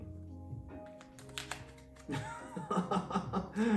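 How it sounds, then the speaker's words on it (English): Quick riffling and soft tapping of playing cards being shuffled up close, building into denser flurries toward the end, with no talking. "my pro card shuffling skills"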